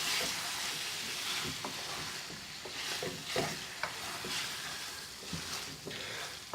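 Vegetable curry with base gravy sizzling in a pan, a spoon stirring with soft scraping clicks over a steady, fairly quiet hiss, no talking.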